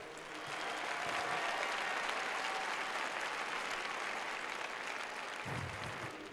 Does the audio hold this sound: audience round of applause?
yes